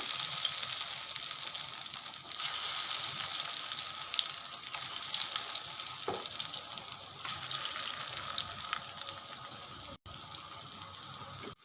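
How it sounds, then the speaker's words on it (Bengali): Onion fritters (peyaji) frying in hot oil give a continuous dense, bubbling sizzle that stays fairly even and close throughout, with no one speaking. "একইভাবে সবগুলো ভেজে নেব"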